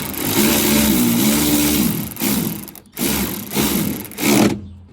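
A power ratchet or driver tightens bolts on the tailgate bracket of a 2000 Ford Expedition, giving loud whirring, chattering bursts separated by short pauses.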